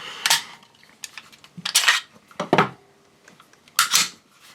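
An Arex Zero 1 Tactical pistol's ambidextrous magazine release snaps and flops back into place in a few sharp, close metallic clicks with brief gaps between them, with no talking.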